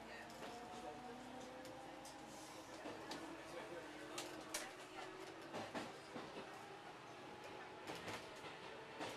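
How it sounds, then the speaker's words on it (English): Inside a moving above-ground train pulling out of a station, wheels clatter and rumble with a rising mechanical whine as it picks up speed, voices murmuring faintly under the steady rattle. "you can hear the train speeding up in the background"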